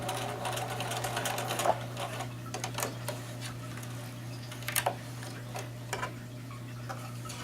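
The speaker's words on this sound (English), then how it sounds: "Now when you're sewing, remember, don't sew over the pins" A sewing machine stitches a skirt for an 18-inch doll, its needle ticking in quick rapid bursts over a steady motor hum, close and moderately quiet, with short pauses between runs.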